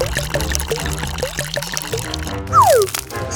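Hot water is poured onto ice, trickling and splashing continuously at close range, with a brief gliding tone partway through.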